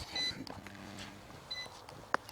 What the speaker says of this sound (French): on va tourner notre drone jusqu'à temps qu'il bip